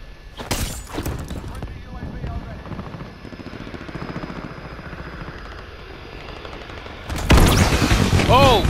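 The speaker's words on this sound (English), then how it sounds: "Oh, gas grenade," Chaotic Call of Duty Modern Warfare gameplay as a gas grenade goes off, with a loud burst near the start, a sustained hissing, rumbling stretch, and a sharp louder blast near the end, with a player talking over it.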